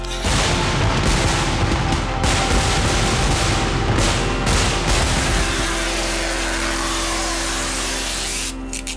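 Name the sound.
fireworks exploding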